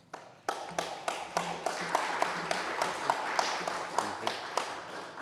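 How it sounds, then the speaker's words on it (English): An audience claps for a speaker at a talk, with a run of sharp, fairly even hand claps lasting several seconds, moderately loud and near, with slight background murmur. "we want to give you a round of applause first"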